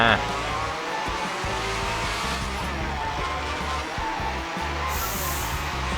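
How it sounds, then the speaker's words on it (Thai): A Honda Civic fifth-generation engine in GTA V revs and drones continuously with tire squeal. It stays loud and steady throughout, with a voice talking over it. "นี่รถซิ่งมันต้องแว้นทางอย่างนี้ฮะ"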